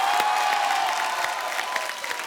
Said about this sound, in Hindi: आप सबकी जोरदार तालियों के बीच प्लीज वेलकम मिस्टर